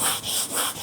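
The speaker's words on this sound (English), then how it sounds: "Now set that to the side and we give it a little sanding treatment." An old painted surface being hand sanded: three quick, close rasping strokes in a short burst.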